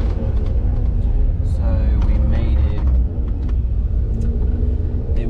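Steady road traffic at night in Nha Trang, Vietnam, a continuous loud rumble of passing cars and motorbikes with occasional higher whines and horn-like tones, close and unbroken throughout.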